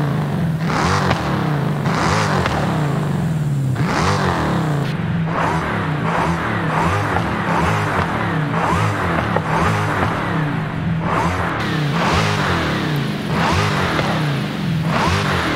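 A supercharged Dodge Charger Hellcat with a modified exhaust revs hard in Forza Horizon 5, roaring loudly and continuously as the revs rise and fall again and again, with no talking.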